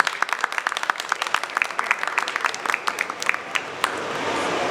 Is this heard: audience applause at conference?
yes